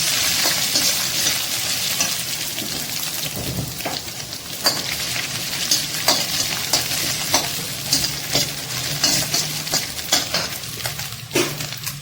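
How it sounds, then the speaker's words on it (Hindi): Boiled chicken pieces frying in a pan over sautéed ingredients, a steady crackling sizzle with frequent scraping stirs and clinks of the spoon throughout, close and fairly loud, no talking. "अब मैंने ये चिकन बॉयल चिकन डाल देनी है और इसे भी फ्राई कर लेना है।"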